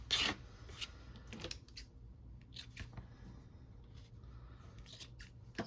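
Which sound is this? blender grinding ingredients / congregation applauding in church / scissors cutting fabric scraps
scissors cutting fabric scraps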